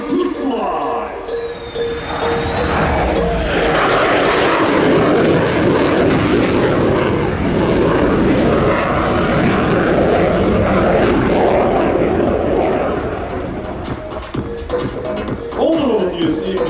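A SoloTürk display jet flies the big slice manoeuvre at the Royal International Air Tattoo airshow in a loud, sustained roar that builds and holds before easing slightly. A commentator's voice sounds over it at the start and end.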